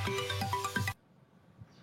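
Phone ringtone signalling an incoming call, a short melodic ringing phrase that stops abruptly, followed by quiet room noise.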